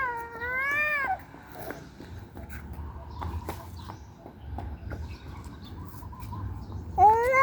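A cat in Paco Park meows twice, a drawn-out wavering cry at the start and another at the end, fairly close, with quiet background noise between.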